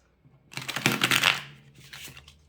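A quick riffle of tarot cards being shuffled, a soft crisp flutter rising and then trailing off, close and alone.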